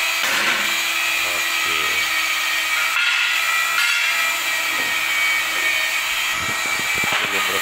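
Power-tool cutting of mosaic tiles for an edge during tile installation, a continuous high whining grind with shifting pitch, close and loud, with a brief spoken word.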